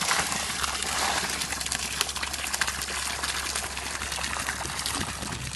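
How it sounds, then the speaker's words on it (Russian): Treated effluent stream from a pulp and paper mill pouring into a lake in Karelia, a steady broadband rush and trickle of flowing water, close and continuous, with no talk over it. "Вот через этот поток поступает очищенная вода в озеро"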